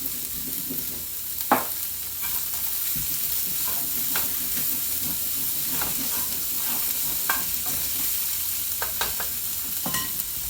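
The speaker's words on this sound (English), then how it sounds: "I'm gonna end up frying my food." Steady sizzle of chopped onion frying in a pan, with occasional stirring clicks and scrapes throughout, close by and moderately loud.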